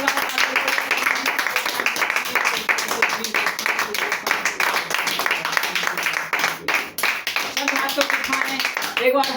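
A church congregation claps their hands together in thanks during worship, a dense sustained patter of many hands with voices mixed in underneath.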